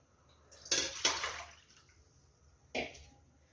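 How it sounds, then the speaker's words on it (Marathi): Water from a small bowl is tipped into a pot of rice for spiced masale bhat, giving two close splashing pours in quick succession, then a shorter splash after a pause, all quiet and close. "ज्या वाटीने आपण तांदूळ घेतलेला आहे त्याच वाटीने इथं पाणी घालायचं आहे"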